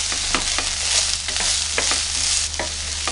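Fresh green peas and mixed vegetables for a restaurant-style veg curry sauté in hot oil, giving a steady close sizzle broken by repeated scraping stirs of a spoon against the pan.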